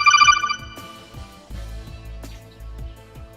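On a radio call-in show, a telephone gives a brief electronic ring at the very start, then fades into low, quiet tones.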